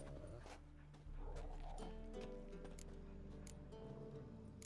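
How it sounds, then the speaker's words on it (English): Dogs in The Witcher 3 video game whimper and yip faintly over soft, sustained musical tones in the background. "Sit, you stupid mutts, lie down."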